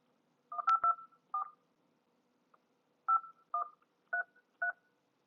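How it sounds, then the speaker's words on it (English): Touch-tone keypad dialing a phone number to the weather service in Salt Lake City: six distinct dual-tone beeps in two clusters, clear and close over a quiet background with a faint hum. "I'm going to dial the weather service here in Salt Lake City,"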